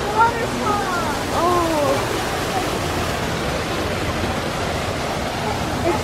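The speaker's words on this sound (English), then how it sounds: "Oh, there's a waterfall." Waterfall at a zoo near the flamingo area, a steady broadband rush of falling water heard at moderate distance, with voices of visitors and bird calls over it early on.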